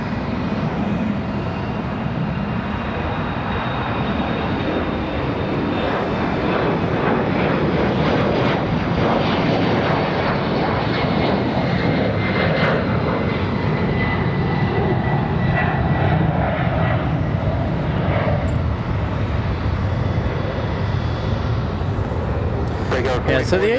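A jet airliner roars on takeoff from runway 23 left at Raleigh-Durham International, a loud continuous engine rumble and whine holding steady for over twenty seconds, with no one talking.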